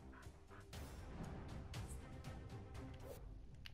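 Dogs barking and yipping during a fight in the South Park video game, several sharp barks scattered through a busy mix of combat effects and music, at moderate level with no speech.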